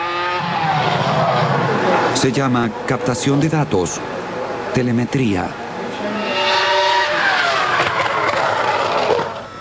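A Formula 1 race car runs on the track, its loud engine rising and falling through gear changes with sharp high whines and passes, while a narrator talks over it.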